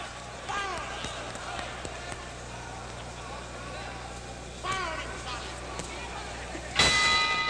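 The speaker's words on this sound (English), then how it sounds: "There's the bell." A boxing ring bell at Madison Square Garden ends round one of a 1963 bout, a single bright clang ringing out near the end over a constant murmuring arena crowd.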